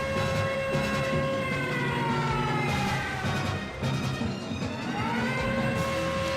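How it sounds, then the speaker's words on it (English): An air raid siren wails continuously in Super Robot Wars MX Portable, a loud, steady rising-and-falling electronic tone with no talking. "the air raid siren"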